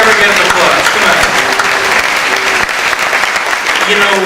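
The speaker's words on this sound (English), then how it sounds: "let's give the Jesuits a round of applause" A dinner audience applauds the Jesuits at a keynote speech, dense, loud clapping sustained throughout, with faint voices mixed in.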